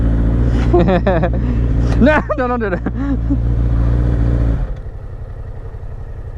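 A Yamaha R6 street fighter motorcycle runs with a loud, steady engine drone that drops off sharply near the end, while voices talk over it.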